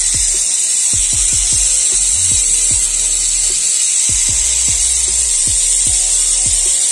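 A Tamiya FM chassis mini 4WD motor runs with a loud, high-pitched whine throughout, over a series of rhythmic low clicks and rattles.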